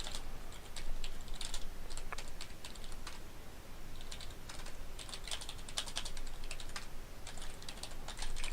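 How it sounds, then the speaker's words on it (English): Fingers tap on a computer keyboard in quick, irregular bursts of clicks and clatter, pausing briefly between flurries, fairly close and with no talking over it. "just typing something"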